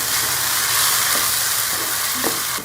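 Chicken liver fries with tomatoes in a kadhai, making a loud, dense, steady sizzle close up with a few faint stirring knocks underneath and no voices.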